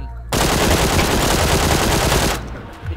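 Loud, sustained automatic gunfire from a PUBG match, a dense unbroken burst lasting over two seconds before cutting off, followed by faint trailing noise.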